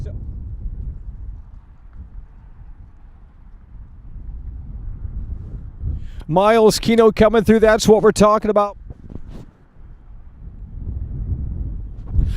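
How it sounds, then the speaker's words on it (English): Gusty outdoor wind buffets the microphone as a steady low rumble through most of the passage, with someone talking loudly over it in the middle. "It is windy out here, folks at home, so let me know how the audio is, because it is windy"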